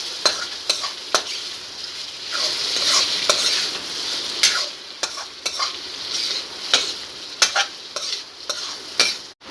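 Chicken curry stirred while it fries in a pan: a continuous sizzle punctuated by repeated spoon scrapes and knocks against the pan, close and without talk.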